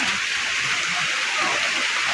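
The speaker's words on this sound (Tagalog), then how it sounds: "kusog po ang ulan" Heavy rain pours down in a steady, dense hiss that fills the whole stretch evenly, with a faint low murmur underneath.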